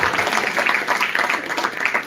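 Audience applause for Dr. Ajay Kumar Sukla at an education event, a steady dense patter of many hands clapping throughout the short stretch.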